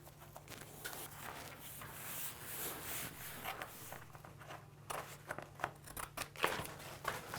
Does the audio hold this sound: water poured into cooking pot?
no